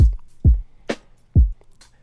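A sparse drum pattern: deep electronic kicks thump alternately with a crisp snare crack, about three hits in two seconds, clean with no voices.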